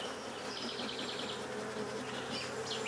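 Honey bees hum in a steady, faint drone around an opened split hive, continuous with slight rises as individual bees pass nearby.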